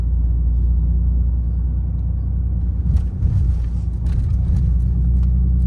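Car rolling over a storm drain at about 40 km/h, a loud steady low road rumble with a brief thump and clatter from the suspension partway through.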